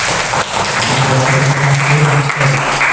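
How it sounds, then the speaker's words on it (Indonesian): A classroom of pupils claps together in steady, dense applause that carries on at full volume for the whole stretch, with no speech over it. "Oke, terima kasih, tepuk tangan."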